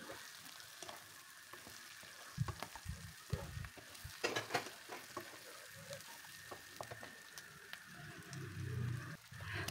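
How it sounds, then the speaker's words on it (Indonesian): Chicken, already fried dry, is stir-fried in a pan with browned shallots and garlic for teriyaki chicken, giving a steady sizzle with scraping stirs and clatters throughout, close and moderately loud, with no talking. "Kita tumis lagi."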